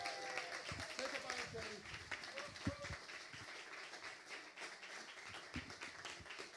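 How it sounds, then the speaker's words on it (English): An audience at the Manchester Writing School summer festival open mic applauds at moderate volume, with a steady clatter of claps mixed with scattered voices and chatter throughout. "we'll end with this round of applause for her, Dr. Kim Moore!"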